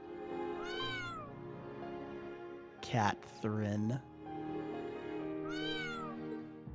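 A cat in the video game Trails of Cold Steel III meows clearly twice, once near the start and once near the end, with a loud, brief vocal burst between the two meows.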